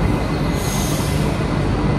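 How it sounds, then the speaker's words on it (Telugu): A Bengaluru metro train pulls out of an underground station near Cubbon Park, a loud close rumble with a faint high wheel squeal, steady for the whole stretch with no voices. "ట్రైన్ వెళ్ళిపోయింది"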